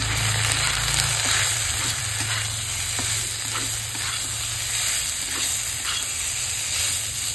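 Masoor lentil chorchori with turmeric and onion is stirred in a hot pan, giving a continuous close sizzle and hiss broken by soft, regular scrapes of the spoon.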